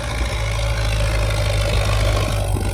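A steady engine that burns oil and needs repair idles close by, a constant low rumble with a faint mechanical hum and no change in pace.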